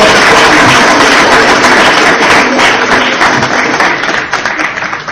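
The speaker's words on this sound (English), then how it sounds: "Give him a round of applause." An audience applauds a speaker with dense, loud, continuous clapping that holds steady and then begins to thin toward the end.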